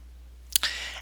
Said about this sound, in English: you double click Enable Macros